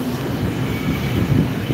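A train in Luxembourg rumbles past close by, a steady low roar with broad rushing noise and no voices.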